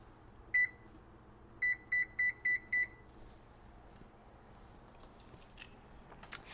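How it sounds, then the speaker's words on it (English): A kitchen timer for cooking quinoa beeps once, then five more times in an even quick series, clear and close, followed by faint kitchen clatter. "my timer just went off for the quinoa"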